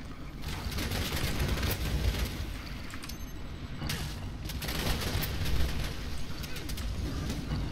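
Gunfire and blasts in the online action game Gigantic ring out as dense, continuous volleys of shots and booms, a sustained loud barrage of battle noise with no clear gaps.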